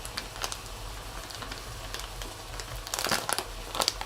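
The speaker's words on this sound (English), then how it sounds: "And then we're just going to cut open our Grana Padano." Packaging of Grana Padano cheese being cut open in a kitchen: close, soft crinkling and snipping of plastic wrap with a few sharper crackles near the end, fairly quiet under a low steady hum.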